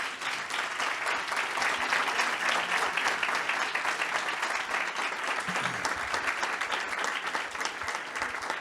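A conference audience claps at the close of a panel on digital platforms, steady full applause from many hands at an even level throughout, with no speech.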